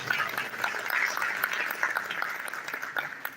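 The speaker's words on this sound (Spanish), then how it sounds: "quiero pedir un aplauso para todo el inicialismo de COPACO" An audience applauding at the close of an international congress session in a university hall, a steady wash of many hands clapping at moderate distance, continuous throughout without a clear fade.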